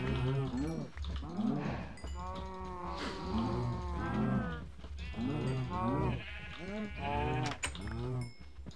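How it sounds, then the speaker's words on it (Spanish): Cows mooing in Minecraft Hardcore mode, a run of drawn-out, wavering low calls repeating one after another, with voices talking over them. "¡Upa, vaca está ahí!"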